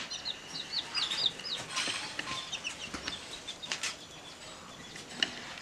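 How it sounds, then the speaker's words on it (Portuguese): Young chicks cheep in a farm enclosure, a cluster of close, high, rapid peeps early on followed by scattered chirps, with soft rustling and handling noises in the background. "Tem mais dois pintinhos, também bem espertinho."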